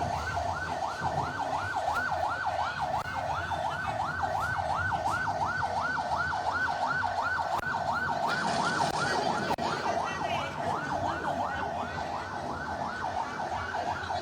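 An ambulance siren wails in a fast, repeating rising-and-falling cycle, loud and steady, with road traffic rumbling underneath.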